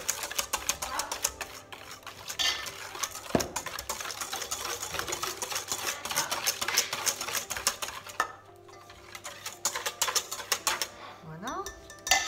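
Milk being whisked little by little into waffle batter in a bowl, a fast, steady clicking and scraping of a whisk against the bowl that runs close and fairly loud throughout, with a brief pause near the end.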